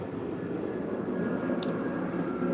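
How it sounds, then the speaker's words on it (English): An airplane passes overhead as a steady, broad rumbling roar that stays constant throughout, with no talking. "Hear that plane flying over my head?"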